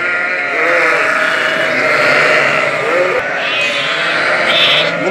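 Hissar lambs bleat repeatedly, close and loud, with several overlapping wavering cries over a steady background murmur.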